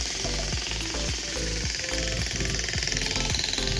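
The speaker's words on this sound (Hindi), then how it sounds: "ये आरी का प्लेट जिससे हम इसकी मदद से इसको खोल रहे हैं" A saw blade cuts into cement ground to open a trench for cable piping, giving a rapid, loud, rhythmic chattering grind that pulses steadily without pause.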